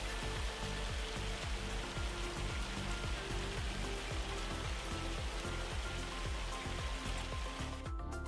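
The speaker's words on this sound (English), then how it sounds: "Would you stop with the hail?" Hail pours down in Farming Simulator 25 as a dense, steady patter of pellets drumming on surfaces, close and constant with no break for the whole stretch and no talking over it.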